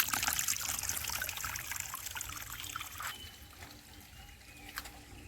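A small forest stream trickles during the monsoon, a soft, steady watery hiss and babble heard from close by, fairly quiet and continuous, with no voices.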